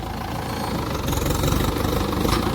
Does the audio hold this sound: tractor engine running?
yes